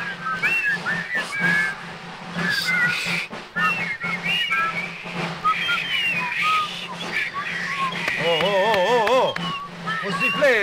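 Melodic human whistling with wavering pitch, loudest toward the end, mixed with voices and background noise.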